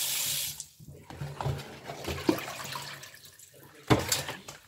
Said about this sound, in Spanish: Voy a botarle esa agua.